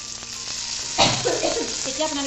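Taro stems and small tomatoes fry in a pan with a continuous close sizzle, flaring louder as the tomatoes are added, while someone talks over the cooking.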